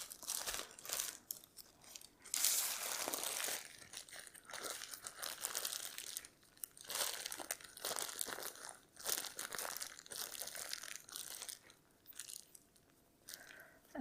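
Plastic zip bag filled with fluid acrylic paint being handled and squeezed to push out air: close, irregular crinkling and crumpling in bursts with brief pauses, fairly quiet and without talk.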